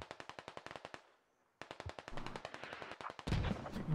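Mortar strikes and automatic gunfire in the video game Squad, a rapid string of sharp close cracks, a short pause, then more dense bursts ending in a heavier blast.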